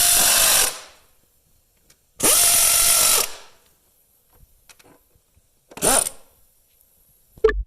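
Power tool or ratchet tightening valve cover bolts on a Mazda 5 engine during a valve cover gasket job: two long loud whirring bursts, then a shorter burst and a brief click, with quiet gaps between.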